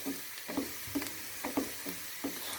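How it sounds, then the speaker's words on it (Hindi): Onions fry in a pan with a steady sizzle, broken by short regular scraping bursts about every half second as they are stirred. "यहाँ पे हमारी प्याज फ्राई हो गई है।"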